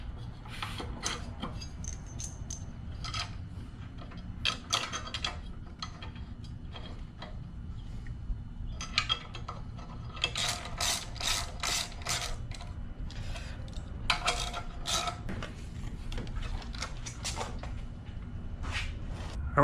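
Ratchet or torque wrench tightening a billet flywheel on a Tillotson 212e small engine, close and fairly loud: repeated bursts of sharp clicking ratchet pawl strokes separated by short pauses, over a steady low background hum.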